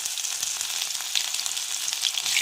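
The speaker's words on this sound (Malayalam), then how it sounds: "മല്ലിയില പച്ചമുളക് ഇഞ്ചി വെളുത്തുള്ളി കരുവേപ്പില ഇവയെല്ലാം ഒന്ന് വഴറ്റിയെടുക്കാം" Mustard seeds, ginger, garlic, green chili, curry leaves and coriander sautéing in hot oil, a dense continuous hiss and crackle, close and fairly loud, with no talk.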